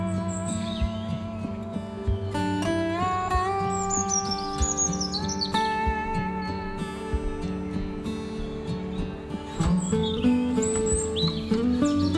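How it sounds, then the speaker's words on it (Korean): Birds chirp and sing steadily in a Namsan forest in Seoul in autumn, several tweeting calls overlapping near and far across the whole stretch, with no talking. "잠시 앉아 새소리를 들으며 쉬었다 갑니다."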